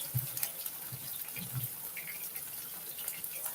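Hot cooking water poured off a pot into a sink, a steady gushing, splashing flow with a few heavier sloshes, close by and moderately quiet, with no voices over it.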